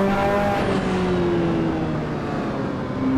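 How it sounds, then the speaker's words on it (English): A Ferrari race car engine in the Assetto Corsa racing game drones steadily at high revs, a loud continuous whine with shifting tonal lines and a slight tire squeal, with no voices. "Once again, strange engine sound, engine noises."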